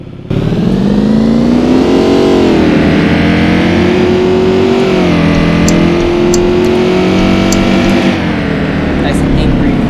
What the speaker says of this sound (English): Nice angry V8 motor.